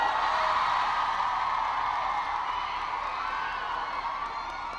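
Fans at a pop idol trainee stage roar and cheer in a sustained, dense wash of crowd noise that gradually fades, with no clear individual voices on top.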